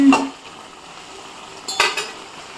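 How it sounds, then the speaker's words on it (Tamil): Potatoes sautéing in a pan, with a couple of sharp metal clinks of a spatula against the pan over a low sizzling background. "உருளைக்கிழங்கு வதக்கிட்டு இருக்கேன்"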